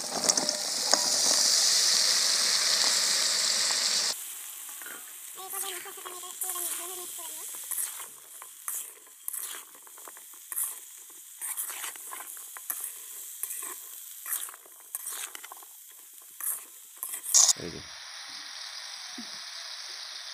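Washed potatoes and vegetable stems tipped into a pan of frying spices: a loud sizzle bursts at first, then settles into softer scraping and stirring with intermittent clinks, close by, with no voices.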